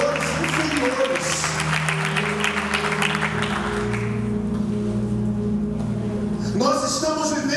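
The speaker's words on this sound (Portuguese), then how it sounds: "Quantos podem aplaudir a Jesus?" Church congregation applauding during a sermon, a dense wash of clapping over sustained organ or keyboard chords, fading out before a voice and music return near the end.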